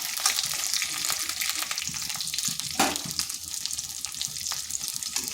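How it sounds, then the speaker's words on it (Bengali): Katla fish pieces shallow-frying in hot oil for a doi katla recipe, a dense steady sizzle with crackling spits and occasional stirring scrapes, close and continuous. "মাছগুলোকে এইভাবে হালকা ভেজে নিয়েছি, খুব বেশি কড়া করিনি"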